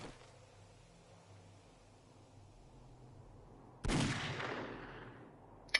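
A single sharp .44 revolver gunshot in the video game 7 Days to Die cracks out after several seconds of quiet ambience, followed by a long, fading reverberant tail.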